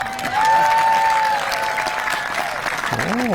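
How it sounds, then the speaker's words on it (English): Spectators clap at an 1880s-rules vintage baseball game on Mackinac Island, a steady outdoor round of applause lasting the whole moment with crowd noise and a voice talking over it. "We don't usually get them clapping, so well done."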